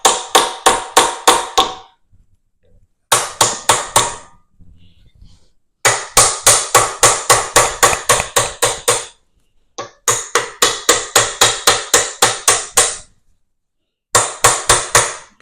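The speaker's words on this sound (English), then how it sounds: "I'm going to give it a few love taps with the Garland #1 on the poly" Repeated sharp mallet taps from a Garland No. 1 poly-faced mallet striking the handle of a vintage Cleco E5 rivet gun, coming in quick bursts of five to ten loud close blows separated by short pauses.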